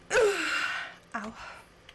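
A big sneeze in the survival video game Icarus bursts out as a sharp breathy explosion followed by a shorter second huff a second later, close and fairly loud with no talk.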